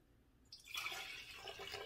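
Strained fire cider vinegar pours from a large measuring cup into a small glass mason jar, a short, soft, close trickling stream beginning after a brief silence.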